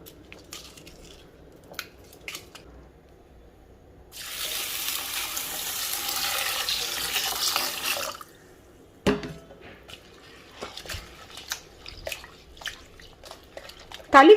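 Lentils and rice are rinsed in a vessel as tap water runs steadily for a few seconds, followed by splashing, swishing and pouring sounds at close range, with someone speaking softly at times.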